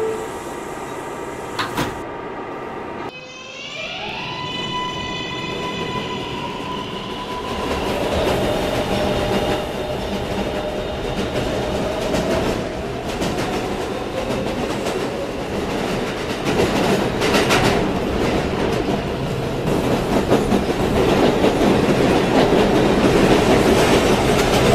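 A video-game subway train rumbles steadily with rhythmic clatter, a brief falling tone as it starts off, then a continuous rolling roar building louder.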